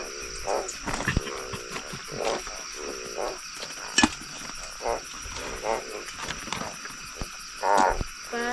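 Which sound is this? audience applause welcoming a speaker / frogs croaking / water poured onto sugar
frogs croaking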